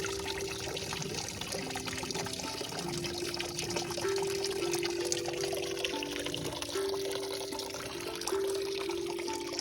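Water trickles and dribbles softly in a natural hot spring, a faint, steady outdoor babble with a few thin tonal whines running through it and no voices.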